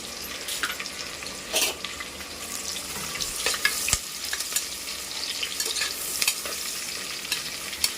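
Sliced onions and green chillies fry with biryani spices in a pan, sizzling steadily close by while a spoon scrapes and stirs at irregular moments, with no one speaking.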